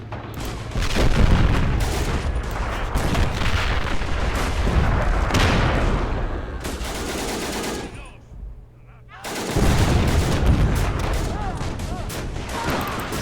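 Dense, continuous machine-gun and rifle fire with artillery booms in a Chaco War 1933 strategy mod. The barrage stays loud, dips briefly into a lull, then resumes at full intensity under occasional talk.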